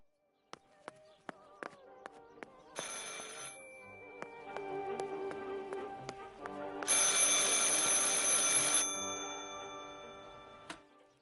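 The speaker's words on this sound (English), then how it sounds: "I should pick up the phone but remain silent." A telephone rings repeatedly in the horror video game Martha is Dead, with bell-like bursts over tense ambient tones and ticking clicks, the rings swelling loud and close at moments.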